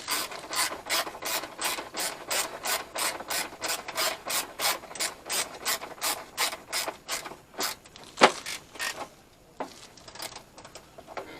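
Ratchet with a 10mm socket tightening a strut bolt on a 2007 Scion tC: a rapid, rhythmic series of close clicking ratchet strokes, then a few slower, irregular clicks trailing off near the end.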